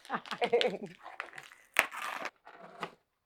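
Crinkling and rustling of professionally wrapped gift paper being torn open up close, mixed with chatter and a sharp crackle partway through.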